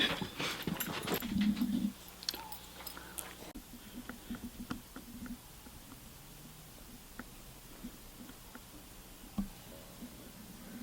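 A dog whimpers and pants in short bursts near the start, with a few faint soft sounds and patter afterward against a quiet room.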